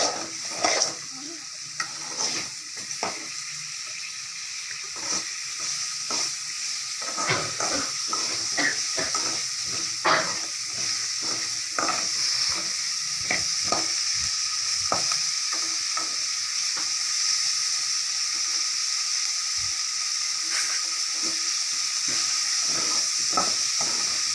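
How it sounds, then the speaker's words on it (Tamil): Salted onions sauté toward brown in a frying pan, a steady sizzle and hiss running throughout while a spatula scrapes and stirs in frequent sharp strokes, close and clear with no voices. "நல்லா ப்ரௌனா வரணும், அது வரைக்கும் நல்லா வெங்காயத்தை வதக்கிக்கோங்க"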